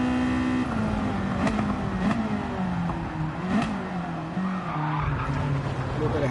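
In a racing video game, a front-wheel-drive car's engine drones steadily while its tires skid and squeal through a handbrake slide, with someone talking over the continuous engine tone.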